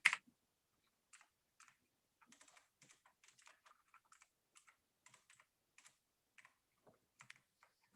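Slow, irregular typing on a computer keyboard: faint, scattered key clicks with pauses between them in an otherwise quiet room.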